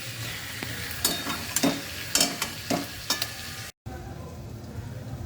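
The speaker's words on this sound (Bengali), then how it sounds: "এবার আমি এর মধ্যে এই ভাজা আলুগুলো দিয়ে দিলাম। এবার এটা খুব ভালো করে কষিয়ে নিতে হবে আলুর সঙ্গে চাপা দিয়ে দিয়ে।" Fried potatoes stirred and pressed in hot oil for a Bengali vegetarian thali curry, with a steady low sizzle and several sharp spatula scrapes against the pan, ending in a brief gap before a quieter simmering hiss.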